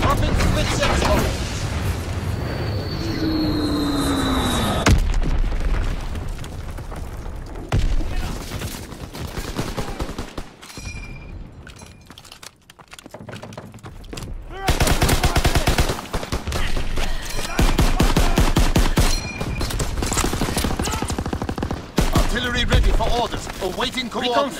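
In Call of Duty WW2, a bombing run unleashes dense, loud explosions and rattling machine-gun fire over nearly half a minute, booming waves easing briefly midway before surging again, with voices heard among the battle noise.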